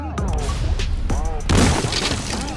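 Cartoon Diwali firecrackers go off in a sudden loud crackling burst partway through, after a stretch of cartoon voices and background sound.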